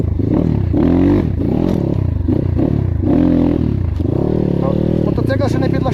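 A KAYA 612 motorcycle is ridden hard, its engine loud and close as it revs up and drops back in repeated surges, with a rider talking over the engine noise.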